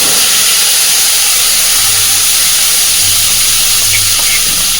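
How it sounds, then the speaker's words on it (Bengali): A ground paste of onion, ginger, garlic and red-tinged green chillies sizzles in hot oil with a bay leaf, for a party-style pointed gourd and prawn curry; a steady, loud hiss fills the clip with no talk. "এইবার দিচ্ছি পেঁয়াজ, আদা, রসুন আর লালচে দেখে কাঁচা লঙ্কা একসাথে মিক্সিতে বেটে রেখেছিলাম, বেটে রাখা মশলা।"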